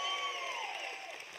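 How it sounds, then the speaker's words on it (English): A live audience at Silver Dollar City applauds and cheers an announcement: a dense, steady wash of clapping with a few whoops and a high whistle, loud and close throughout. "Now, you can clap for that."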